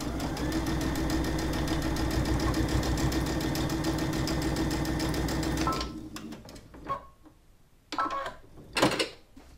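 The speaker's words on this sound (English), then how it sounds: "I'm going to put this one in place like so and carry on sewing" A sewing machine stitches a fabric wine bottle bag with a rapid, steady mechanical chatter for about six seconds. It then stops, and a few faint handling knocks and bumps follow.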